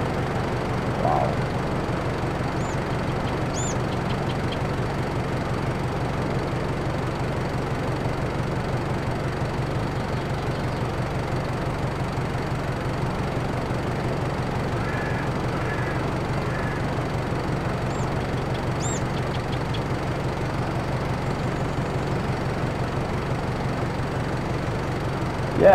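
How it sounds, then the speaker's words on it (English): Valtra N135 Active tractor engine idling in Farming Simulator 22, a steady low drone that holds evenly throughout with no talk over it. "I think it's a very nice tractor."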